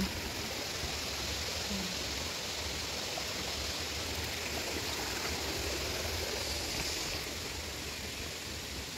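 Spring water flows at Bato Spring in Laguna, a dense, constant rushing hiss that is close and steady for the whole stretch, with no voices over it.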